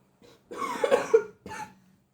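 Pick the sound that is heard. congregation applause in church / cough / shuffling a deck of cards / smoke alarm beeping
cough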